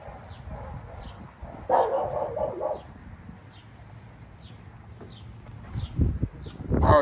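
Several big lilac tri dogs bark and yip in short bursts, with louder barks near the end and faint birdsong in the background.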